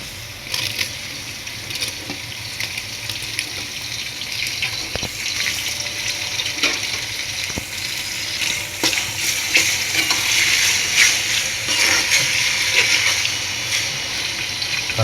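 Tomatoes frying in hot oil over golden-browned onions for chicken biryani, a loud steady sizzle close by that swells over time, with stirring scrapes and occasional clicks of a spoon on the pot and no talk.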